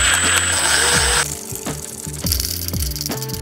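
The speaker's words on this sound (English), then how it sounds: "So let's get this bracket bolted back on," A ratchet clicks in quick, close bursts as a bracket is bolted back onto a Subaru BRZ engine during a K24 swap, with a short rattling pause between strokes.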